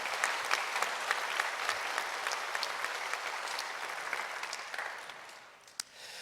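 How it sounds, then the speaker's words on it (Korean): Church congregation applauding during an evening worship service: sustained, fairly distant clapping with sharp individual claps on top, fading out toward the end, with one last clap. "그런 면에서 여러분이 박수 한번 주셔야 돼요."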